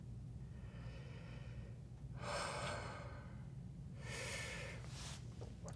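Two heavy, breathy exhalations, like deep sighs or snorts, come from someone after eating a Tornado hot pepper, spaced about two seconds apart, faint over steady low background noise.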